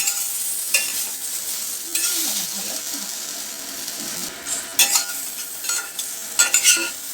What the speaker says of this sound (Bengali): এখানে সবজিগুলো আমার মোটামুটি ভাজা হয়ে গেছে